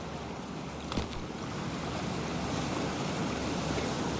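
Cold water in Cyberpunk 2077 as a character plunges in: one brief splash near the start, then a steady rushing, sloshing wash of water that carries on without voices.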